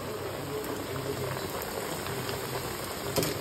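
Hilsa fish frying in oil in a pan, a steady, dense bubbling sizzle that runs unbroken at moderate loudness with a slight pop near the end.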